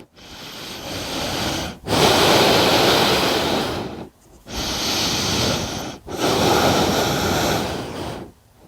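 Deep, slow breaths during a prenatal yoga forward fold, heard close as four long, airy inhale and exhale cycles separated by brief pauses, with no talking.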